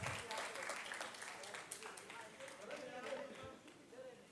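Applause from an audience at a luxury property launch event in India, a steady patter of many hands clapping at moderate distance, with some voices in the room.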